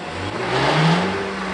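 A blender motor strains as it churns through vegetables for a smoothie, giving a loud, steady whirring drone whose pitch swells and sags slightly as the load shifts, with no voices.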